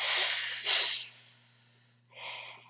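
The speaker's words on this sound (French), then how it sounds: "Baba Yaga renifla." Baba Yaga, the bony, hunchbacked, long-nosed old witch of a Russian folk tale, sniffs the air: a loud breathy snort followed by a second, softer sniff after a pause, with no talking.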